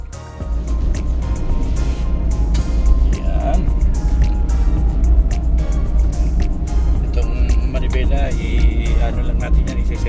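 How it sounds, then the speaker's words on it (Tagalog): Dense road traffic heard during a road test of a Suzuki DR17V 4x4 turbo automatic semi-wagon, as a steady, loud low rumble of engines and tyres lasting throughout, with a person talking over it. "Maraming sasakyan."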